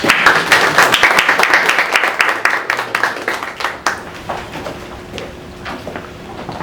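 Applause from attendees at a business networking workshop, loud and close at first with sharp individual claps, then thinning into scattered, sparser claps before fading out.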